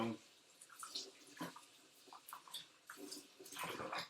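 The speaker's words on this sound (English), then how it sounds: "wash your hands nice and good" Hands being washed under a running tap in a kitchen, faint splashing and trickling water with irregular bursts as hands move through the stream, quiet and close, with talking over it.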